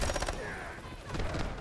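Rapid bursts of MP7 submachine gunfire in the Delta Force video game, loud and close, with dense crackling shots filling the stretch and a voice faintly underneath.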